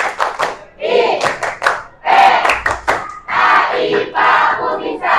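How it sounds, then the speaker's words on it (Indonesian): A classroom of students performs a rhythmic clapping chant, sharp groups of hand claps alternating with loud chanted voices in a patterned call, close and energetic. "mari kita tepuk IPA"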